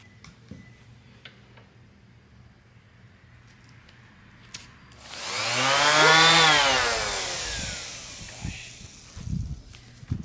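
A power sander run over thin wood veneer on a dresser with 120 grit sandpaper, spinning up and whining loudly for a few seconds and then winding down, with faint clicks around it and no talk.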